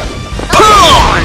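Punch impact in the video game Trauma Team: a single loud hit at about half a second, then a bright swishing tail that lingers for the rest of the moment.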